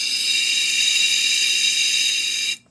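Airbrush spraying paint into a filter jar that catches the overspray, a steady high, bright hiss held alone for over two seconds before cutting off abruptly.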